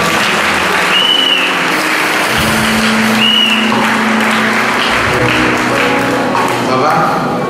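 A church congregation applauding the Lord during a service in Côte d'Ivoire, loud sustained clapping filling the room with a few bright tones and voices mixed in.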